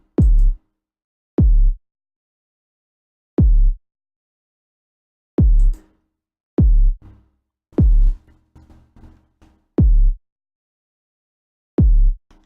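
Minimal kick drum pattern programmed in FL Studio, clipped and boosted for crunch: sparse, punchy booming hits with a short decay, spaced irregularly with a few quieter ticks between them, loud and alone.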